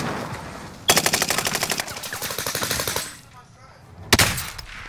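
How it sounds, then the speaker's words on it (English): Shooter video game gunfire, with long rapid automatic bursts that rattle loudly for about two seconds, fade into quieter background noise, then return as another sharp burst near the end. "Yeah, they're shooting."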